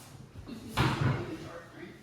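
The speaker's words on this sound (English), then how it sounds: "As you hit the door frame." A very large box knocks against a narrow door frame while being pushed through, giving one dull thud amid people talking nearby.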